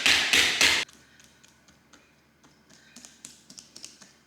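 A Jaccard tenderizer punches holes in the skin of a pork belly for porchetta, producing a run of soft, rapid taps that grow more regular toward the end, following a brief loud burst of noise at the start.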